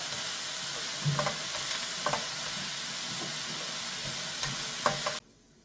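Water parsley stir-fried with bean sprouts and glass noodles for japchae, with steady sizzling and a few utensil scrapes and taps against the pan, close, ending abruptly.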